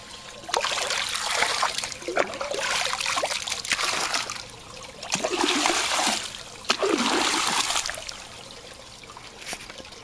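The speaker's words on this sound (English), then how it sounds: "And let's rinse it out to do our due diligence." Water running into a glass that held algicide beside a pool, rinsing it out in several splashing bursts with brief pauses between, fairly close and loud, with no speech.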